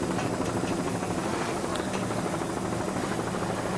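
A racing powerboat engine run hard on the throttle during a race at Freeport, New York in 1990, a loud, steady, dense roar that holds without a break for several seconds, with faint talk buried beneath.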